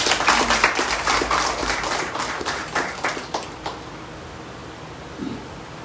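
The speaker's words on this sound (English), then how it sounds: "No clapping for her?" A small gathering at a Harikatha talk in New York claps briefly, with scattered hand claps that thin out and fade into a quiet room after a few seconds.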